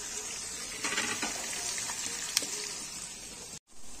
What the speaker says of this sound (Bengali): পেঁয়াজ গুলো দিয়ে দিচ্ছি। এবার পেঁয়াজ গুলোকে ভালো করে কষিয়ে নেব।